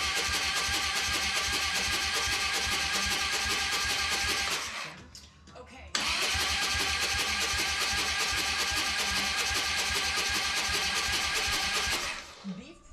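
A Harley Dyna motorcycle engine, freshly fitted with new cams, exhaust, air cleaner and plugs, fires up in a garage and runs loud and steady, cuts out briefly, then restarts and keeps running.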